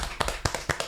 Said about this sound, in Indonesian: Kita berikan tepuk tangan kembali.